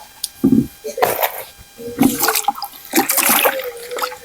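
Standing water tipped out of a plant pot that has no drainage hole, spilling in several short, splashy gushes close by, with brief pauses between pours.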